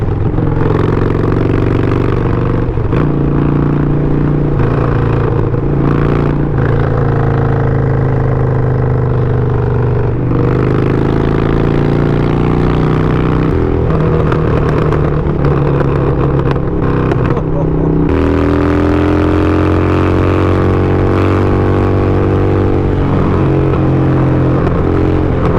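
A loud motorcycle engine roars and revs, pitch climbing and dropping through gear changes with wind noise, running continuously up close while riding.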